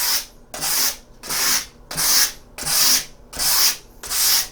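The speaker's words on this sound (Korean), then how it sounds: "사포를 이용해서 뭐 이건 AA400방 이렇게 되어 있는데, 한쪽 방향으로 이렇게 미세요." A diatomite bath mat is sanded with 400-grit sandpaper in one direction, producing seven loud, regular abrasive rasping strokes about two-thirds of a second apart, each with a brief pause between, close up and without talk.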